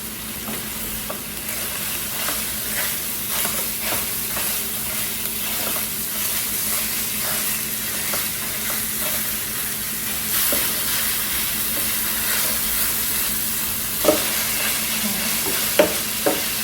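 Pan sausage frying in a pan, a continuous close sizzle and crackle with occasional utensil taps toward the end, no talking.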